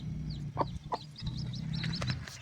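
A hen clucks repeatedly beside her chicks in a farmyard, a steady low murmur broken by a few sharper, brief calls, with faint high peeps from the young birds above it.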